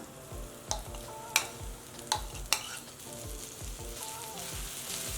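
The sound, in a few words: green chili paste frying in oil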